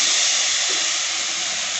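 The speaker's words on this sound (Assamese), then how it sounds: "ভাজি ল'ম আৰু নাৰিকল আৰু চেনিৰ মিশ্ৰণখিনি।" A coconut and sugar mixture fries in a hot wok with a loud, steady broadband hiss, a continuous sizzle close by with no pauses and no voices.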